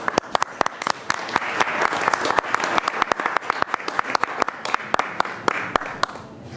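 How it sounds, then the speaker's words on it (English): An audience at a school district board meeting applauds children, with brisk, dense clapping from many hands filling an indoor room. It holds steady for several seconds before thinning slightly at the end. "so that we can all applaud for them"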